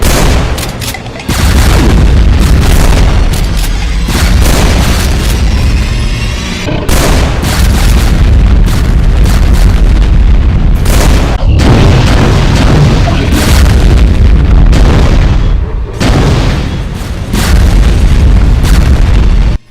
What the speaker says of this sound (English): A rapid BFG 10K attack.